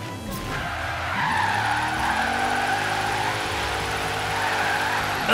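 Car tires squealing and skidding through a drift in the racing game Forza Horizon 3, a steady engine roar carrying a sustained screech for several seconds, loud and close with no talking.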